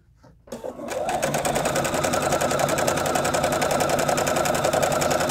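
Sewing machine stitching quilt fabric for a crib-size quilt, starting up after a brief pause and then running in a steady, loud, rapid mechanical chatter with fabric guided by hand.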